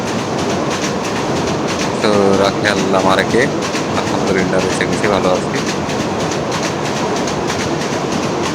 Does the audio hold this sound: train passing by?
yes